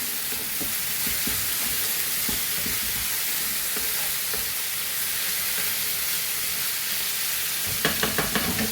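Boiled vegetables fry in a pan for Schezwan noodles with a dense, loud, continuous sizzle, joined near the end by a few quick metallic taps of a utensil.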